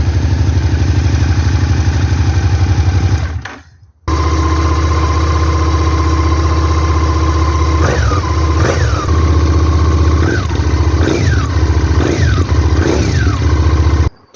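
A Suzuki SV650 motorcycle with a budget aftermarket exhaust idles loudly and cuts out briefly. It then returns to idle and gives a series of sharp throttle blips, close by.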